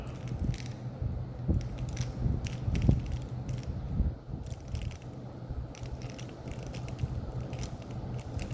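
Wire being unwound from a transformer coil produces continuous crunchy, creaking mechanical rustle with scattered clicks and small knocks, close and steady throughout, without speech.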